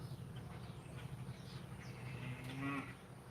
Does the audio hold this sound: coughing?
no